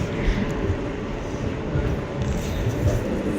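Continuous low rumble of a train running on the snowy Banihal to Srinagar line in Kashmir, steady and close as if heard from inside the carriage, no voices.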